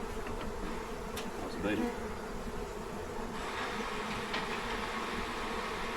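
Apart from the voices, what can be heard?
bees clustering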